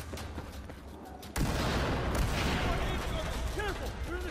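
Gunfire in Battlefield 4, played on a Surface Pro 3: a sudden loud burst of sustained shooting and booming that fills the scene, with a voice calling out faintly beneath the din.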